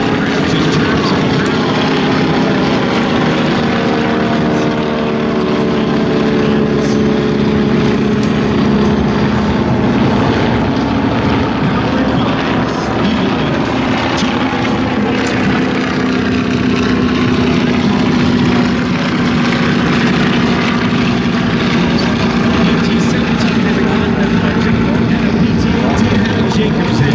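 A Stearman open-cockpit biplane at an airshow, its propeller engine droning steadily and loudly for the whole stretch, with a constant throbbing roar and a voice talking over it.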